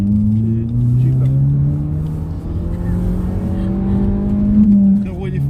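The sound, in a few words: car driving and turning on a road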